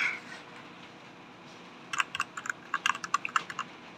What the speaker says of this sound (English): Okay, keyboard seems to be working.